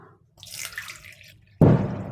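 Water runs and splashes over rice and moong dal being rinsed for kara pongal, a softer patter first and then a sudden louder gush from the tap that keeps pouring to the end.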